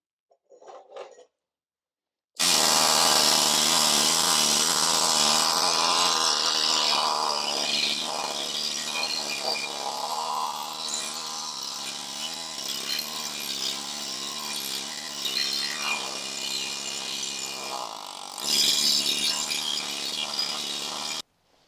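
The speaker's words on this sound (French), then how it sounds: "Donc ça, on va la rattraper sur le marteau. Pneumatique." A pneumatic hammer works a warped sheet-metal car body panel, a continuous loud rapid hammering and rattling that runs steadily for most of the time after a brief pause.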